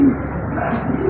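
Young pigeons cooing close by in a backyard loft, a soft continuous low murmur of calls lasting about a second with no talking.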